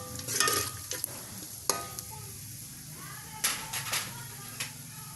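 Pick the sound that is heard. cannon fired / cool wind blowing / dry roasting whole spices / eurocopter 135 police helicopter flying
dry roasting whole spices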